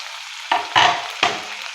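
Tomatoes and beetroot are tipped into sautéed onion in a pan and stirred, giving three short scraping, sizzling bursts against a quiet background, with no talking.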